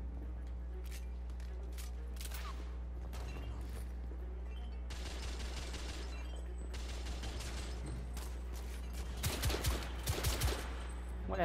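Gunfire from a third-person shooter firefight in The Order: 1886, with steady volleys and bursts of shots over a constant low engine-like drone, swelling into louder, denser fire near the end.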